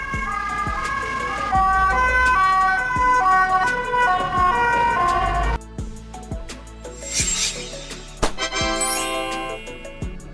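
A Swiss ambulance, a Mercedes-Benz, Volkswagen or Peugeot, sounds a loud two-tone siren alternating steadily, followed by a higher sweeping wail and chiming tones, close and unaccompanied by voices.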